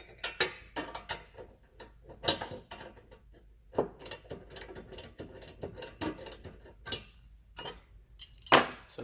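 A lock nut is tightened on a bolt during parachute system assembly, giving quiet, irregular metallic clicks and ratcheting ticks close by with no talk.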